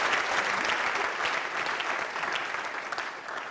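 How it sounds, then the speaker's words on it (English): Audience applause at an event, a dense burst of clapping that starts strong and slowly tapers off over a few seconds. "Please, a round of applause for Delta."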